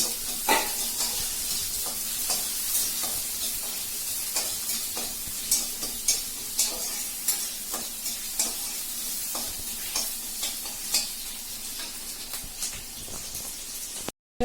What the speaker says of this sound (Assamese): পিঁয়াজখিনি অলপমান ফ্ৰাই কৰি লৈ মই ইয়াতে আৰু কচুখিনি বহাই দিম।